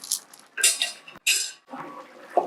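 Spoon stirring black beans and matumbo (tripe) in a pot with coriander, giving a few close, bright metallic scrapes and wet clinks in short bursts separated by pauses.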